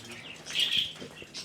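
Small birds chirp briefly and thinly in the Thai stilt fishing village of Koh Panyee, with a soft flutter among faint ambient noise.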